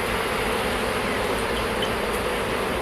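Stirred-up honeybees buzz loudly during a hive frame inspection, a thick continuous drone of many bees right at the microphone, with no one speaking.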